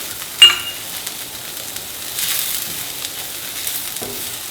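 Rice, leek and bacon fry in a pan for risotto, giving a soft, steady sizzle with a sharp clink near the start and a few quiet stirring sounds.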